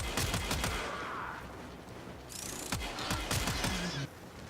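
Tenora weapon firing in the video game Warframe, bursts of rapid automatic fire with sharp cracks and a brief pause mid-clip, loud and close throughout.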